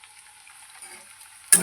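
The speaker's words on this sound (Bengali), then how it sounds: "আলু ভাজা হচ্ছে" Potatoes frying in a pan make a faint, steady hiss of sizzling that swells into a sudden louder burst of crackle at the very end.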